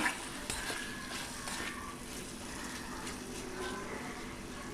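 Potato and paneer curry being stirred in hot oil in a pan, a steady sizzle with repeated scraping strokes throughout.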